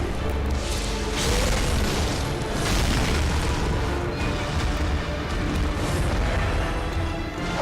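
A Molotov cocktail bursts into flame during combat in the video game Bloodborne, a loud sustained booming roar over continuous dense game noise.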